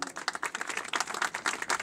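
An audience claps at a ceremony honouring the Catalan boats gathering in Le Barcarès: brief, dense, crackling applause from many hands, steady and moderately loud with no talk.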